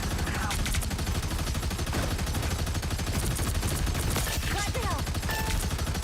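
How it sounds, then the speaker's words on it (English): Gunfire in Marvel Rivals, rapid crackling shots packed into a dense, loud, continuous game mix with heavy low rumble, with no clear pause across the stretch. "Somebody's shooting at me."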